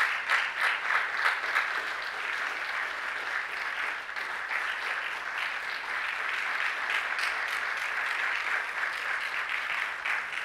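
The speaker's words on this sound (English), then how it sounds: "let's give these international guests a warm round of applause" A luncheon audience in Houston gives sustained applause for visiting Consular Corps guests, a dense, steady wash of many hands clapping at even volume for about ten seconds with no speech over it.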